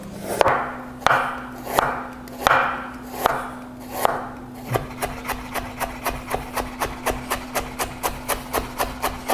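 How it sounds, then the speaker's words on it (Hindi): Ginger chopped and julienned with a knife on a wooden board, close and loud: a few slow, heavy strokes at first, then a quick steady run of sharp, evenly spaced taps, with no voices. "अदरक को जूलियन और अदरक को चॉप करने का तरीका इस तरह से"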